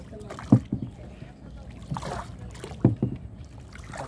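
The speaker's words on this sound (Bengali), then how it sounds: "এই দুইটা বাবু মিলা কত সুন্দর নৌকা চালাইতেছে" A small wooden boat is rowed on the Titas river in Bancharampur, Brahmanbaria, with two distinct oar strokes splashing and dripping close by amid soft water movement and faint voices.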